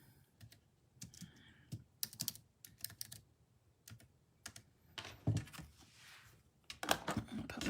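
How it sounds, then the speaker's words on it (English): A computer keyboard clatters and knocks in scattered bursts while being handled and put away, with short taps and thumps separated by quiet gaps and a louder shuffle near the end. "Put my keyboard away here."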